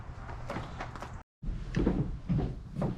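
The heavy ceramic lid of a Big Green Egg grill is lowered and shut, making a few close wooden-sounding clunks and knocks, with one brief pause between them.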